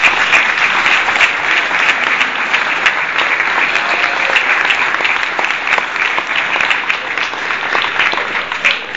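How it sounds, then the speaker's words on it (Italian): A festival crowd at a bull-fest in Sanguinetto applauding two deputies, loud, sustained and dense clapping that stays even throughout with no pause. "io credo che un applauso per entrambi sia doveroso"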